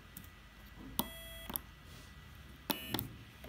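A small buzzer on an Arduino-built electric keyboard sounds two short, pitched beeps about 1.7 seconds apart, each a brief tone of a few notes, over faint room noise.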